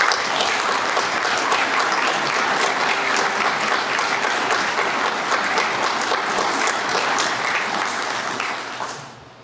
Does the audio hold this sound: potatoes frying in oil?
no